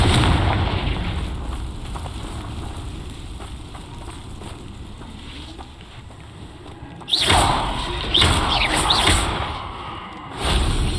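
A Confringo fire spell explodes in Hogwarts Legacy, a loud crackling burst of fiery blasts that rises sharply after a rumbling ambient stretch, followed by a further short burst near the end.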